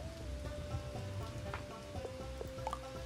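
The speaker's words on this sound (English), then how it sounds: "Wait a minute, it's raining." Rain falls in the video game Bugsnax as a steady, continuous patter of drops, with a constant tonal hum sustained underneath and a few brighter droplet ticks standing out near the end.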